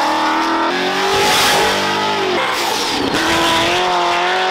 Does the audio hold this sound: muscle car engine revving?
yes